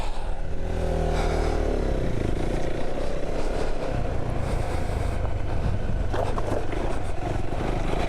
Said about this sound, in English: That's the rockiest I've ever gone up on this bike.